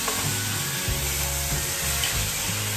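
Spices sizzle and fry steadily in a pan for a Bihari-style omelette curry, a close, continuous crackle with occasional stirring scrapes and no talk.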